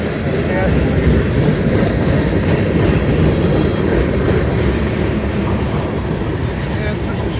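A short Conrail train rumbles past close by, a steady dense roar with faint rhythmic clatter from the wheels, holding constant throughout.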